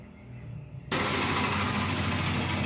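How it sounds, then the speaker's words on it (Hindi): A TVS XL100 BS6 moped engine with a timing chain fault, nine thousand kilometres on it, starts abruptly after a quiet moment and then runs steadily nearby with a continuous mechanical clatter and hum. "गाड़ी को स्टार्ट करके आपको साउंड सुना देते हैं।"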